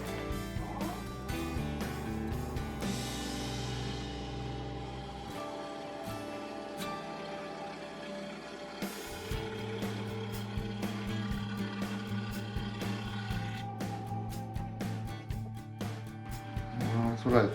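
A woodturning gouge cutting a bowl made of glued wooden strips spinning on a lathe at 1000 RPM, a continuous motor hum with rhythmic catching and ticking as the tool meets the wing tips, close and steady.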